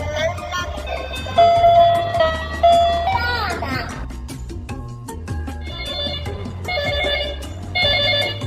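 A children's educational toy telephone car rings with repeated electronic bell tones and playful sound effects, alternating in bursts, while a voice speaks over it.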